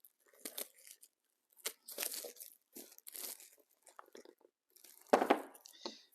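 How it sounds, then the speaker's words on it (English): Plastic wrapping peeled and crinkled off a newly unboxed premium stethoscope, several short rustling, crackling bursts up close with pauses between, ending in a louder crumple. "Let's take the plastic out."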